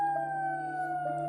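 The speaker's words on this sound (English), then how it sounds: "sirens right now." Emergency vehicle sirens sounding outside, a steady sustained wail heard at a distance, faint and continuous with no talk over it.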